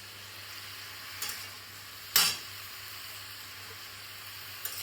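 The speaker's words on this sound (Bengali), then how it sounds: "ভাজা ভাজা হয়ে যাবে একবারে, স্টার ফ্রাই করতে হবে।" Garlic and onion stir-fry over a high flame for a honey chicken dish, giving a steady soft sizzle with a couple of sharp scraping stirs in between.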